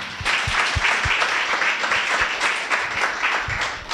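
A small audience claps for a speaker at a women-in-entrepreneurship talk, steady close handclaps with a few sharp individual claps standing out, fairly loud and sustained throughout.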